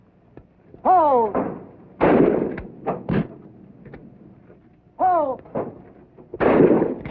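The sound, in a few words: gunfire from gunnery shooting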